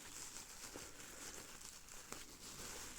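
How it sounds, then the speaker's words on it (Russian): Soft, steady crinkling and rustling of packaging as a parcel box from a coin dealer holding two proof coins is unpacked, with faint tearing and a few light taps in a quiet room and no talk. "Итак, распаковываем вот этот бокс."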